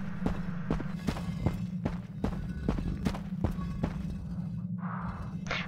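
Player footsteps in the video game Stranded, a steady run of soft thudding steps over a low droning ambience, close and moderately loud, with a brief eerie tonal sound near the end.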